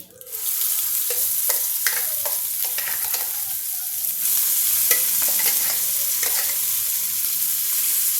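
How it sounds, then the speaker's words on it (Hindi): Moong dal poured into hot oil with asafoetida and turmeric, then stirred steadily, giving a loud, continuous close sizzle broken by repeated scraping strokes of a spoon against the pan, with no talking. "थोड़ा हींग, थोड़ी हल्दी और अब मैं इसमें ये दाल डालूंगी"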